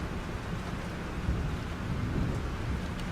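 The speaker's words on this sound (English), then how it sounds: "This storm is real." A thunderstorm in the Life is Strange video game, with steady heavy rain and a continuous deep rumble of thunder swelling slightly, dense and enveloping with no voices.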